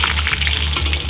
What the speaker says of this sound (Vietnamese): sau đó bây giờ mình sẽ mang đi chiên này.